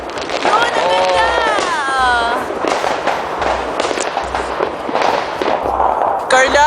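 Fireworks burst repeatedly overhead at a big display, loud sharp cracks and whistling rising streaks overlapping almost continuously, with excited people talking throughout.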